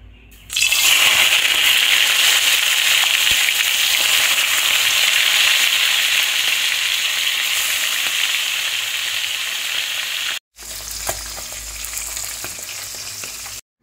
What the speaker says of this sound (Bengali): এবার মাছগুলো এক এক করে ভেজে নেব।